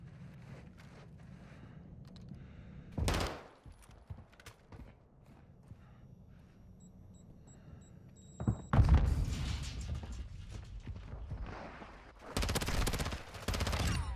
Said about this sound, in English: Nice gunfight out of us.